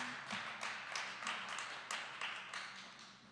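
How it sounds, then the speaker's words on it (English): A small audience applauds, giving a steady patter of many hands clapping at once, moderately loud and continuing throughout with no voices. "These guys will applaud for anything."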